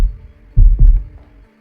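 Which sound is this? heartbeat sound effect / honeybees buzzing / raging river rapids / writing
heartbeat sound effect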